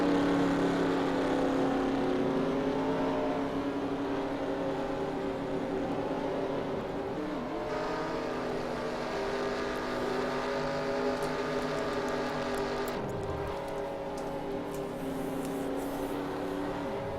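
Race cars in a Dyno Racing League event at Homestead accelerate together at a green flag restart, engines droning loudly and continuously with rising pitch as cars pass, no talk heard.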